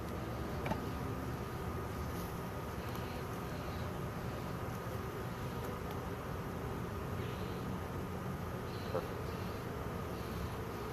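Honeybees buzzing around an open hive during an inspection, a steady dense drone throughout, with no talk.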